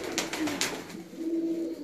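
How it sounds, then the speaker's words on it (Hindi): Pigeons in a large loft cage give soft, low cooing calls that swell in short bursts and then hold steady, close by, over a faint rustling background with no talk. "इस पिंजरे के कबूतर इस काबिल हैं कि इसको शौकीन हजरात देख लेते हैं"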